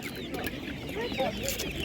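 Czech Dominant chickens cluck at a livestock market with soft, overlapping calls close by, set against busy background noise and some nearby talk.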